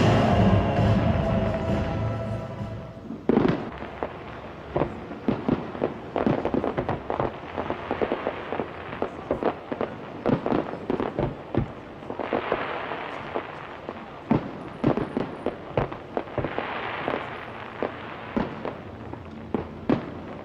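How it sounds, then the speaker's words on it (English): Fireworks exploding at the close of an evening event, a dense run of sharp bangs and crackles following a loud rumbling opening, some bursts near and loud, others layered and distant. "Fireworks."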